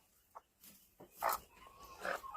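A bantam hen gives a few short, nasal clucks and squawks close by, spaced irregularly over a quiet background.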